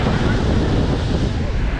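Niagara Falls pours in a heavy, continuous roar of falling water, loud and close, with wind buffeting the microphone and no break in the sound.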